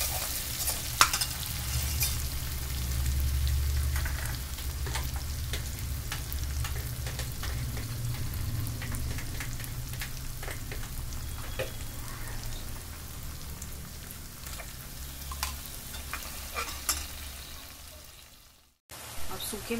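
Chopped tomatoes and ginger-garlic paste frying in oil for bhindi masala, a dense, rain-like sizzle with light stirring scrapes, fairly close and steady, fading briefly before cutting back in at the very end.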